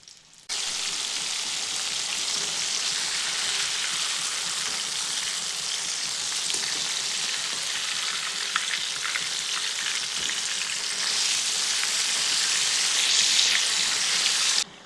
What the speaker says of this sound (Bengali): ভালো করে লাল লাল করে ভেজে নিচ্ছি